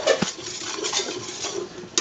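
Flour paste stirred constantly in a pan to cook out the raw flour taste, a spoon scraping and clinking against the pan in quiet, uneven strokes with a few sharper taps, no voices.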